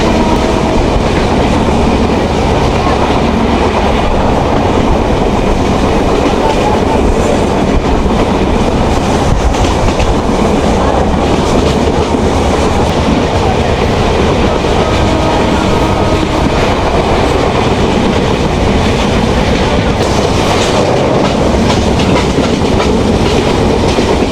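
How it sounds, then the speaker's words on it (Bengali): Benapole Express passenger train in Bangladesh running at speed, taken from an open carriage door: a loud, continuous rumble of wheels and rattling cars with steady clickety-clack throughout, no voices. "এই যে আমাদের বেনাপুল এক্সপ্রেস চলতে"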